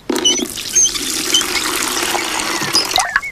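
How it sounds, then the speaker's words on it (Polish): Water pours steadily into a bucket with a continuous splashing gush, close and fairly loud, tapering off near the end. "Najpierw nalejemy wody."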